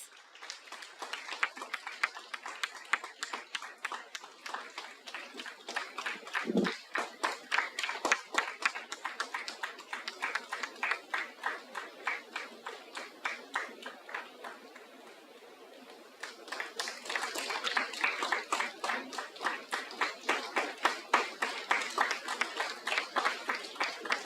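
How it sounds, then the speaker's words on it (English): A conference audience claps in a long round of applause, the individual claps sharp and rhythmic, dipping briefly midway before swelling again. "Audience, shower a big round of applause."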